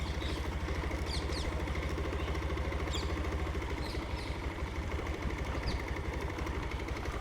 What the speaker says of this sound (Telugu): చూసారా, అది గోదావరి మీద బోటు